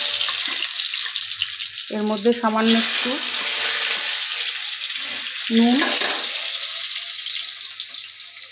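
Boiled potatoes sizzle in hot oil in a pan, a steady close hiss that swells at moments, while a voice talks briefly over it.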